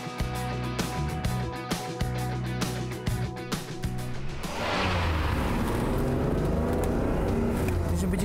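The engine of a Ferrari Testarossa idles with a rough, pulsing throb while the driver struggles to shift gears, then rises into a louder, steadier roar as it revs up close by.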